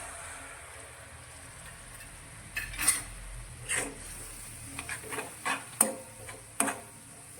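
Spice paste sautéing and being stirred in oil in a pan for green fenugreek curry, giving a faint steady sizzle with scattered clinks of a spoon against the pan later on, close by, with no talk.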